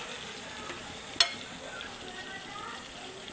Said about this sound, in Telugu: నూనె తేలిన తర్వాత అప్పుడు చికెన్ గోంగూర వేసుకుందాం.